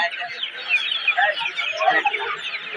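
Several foreign-breed chickens cluck and chatter continuously at a roadside wholesale poultry market in Narsingdi, close and fairly loud, with overlapping calls throughout.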